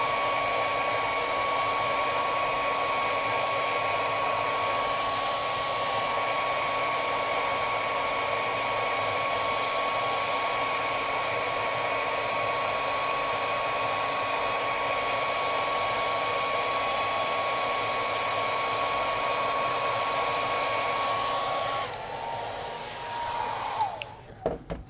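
A hot-air heat tool blows steadily and loudly on a dropped iPhone to warm it for opening, a constant whooshing drone with a faint tonal whine that runs nearly the full length before cutting off near the end.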